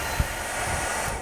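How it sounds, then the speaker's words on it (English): A small travel hair dryer runs on high heat in a cruise ship cabin, making a steady, loud, airy blowing hiss with a faint low bump, and no speech. "for a tiny little hairdryer"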